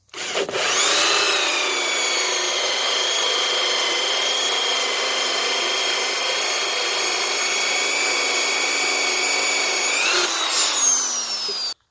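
A power drill whirs steadily into wood for about ten seconds at close range, drilling pilot holes, its pitch holding even before winding down at the end.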